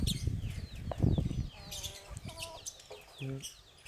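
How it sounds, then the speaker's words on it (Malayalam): Native country hens and chicks at a farm in Nenmara, Palakkad, cluck and cheep softly nearby, with a few wing flaps and scattered short calls amid quiet background noise. "ഇതെൻ്റെ നാടൻ കോഴികളാണ്."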